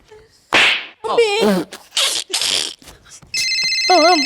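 After a few short bursts of voices and noises, a telephone starts ringing with a steady electronic trill, loud and close.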